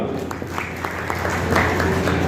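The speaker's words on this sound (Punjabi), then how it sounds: "ਇੱਕ ਵਾਰ ਸਾਡੇ ਬੈਂਕ ਲਈ ਵੀ ਤਾਲੀਆਂ ਮਾਰੋ" An audience at a Punjab National Bank loan outreach camp claps for the bank in a brief, loose patter of hand claps with a low murmur underneath.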